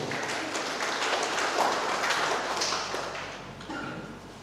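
Audience applause for the Minister of Communication at a regency officials' inauguration in West Manggarai, a steady sustained clapping from a crowd that holds for about four seconds before thinning slightly near the end.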